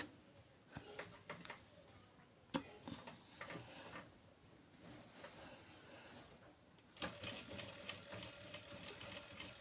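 Sewing machine stitching piping onto a blouse, with a soft, fairly faint mechanical whir in short runs broken by pauses and small clicks, a steadier busier stretch near the end.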